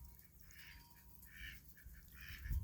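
Domestic ducks, drakes and hens kept on a farm, give repeated nasal quacks in short bursts over a quiet background, fairly faint and spaced out.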